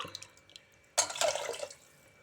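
Water is poured into rice in a pressure cooker in a home kitchen, a short, close splashing gush lasting under a second. A few faint knocks come before it in an otherwise quiet room.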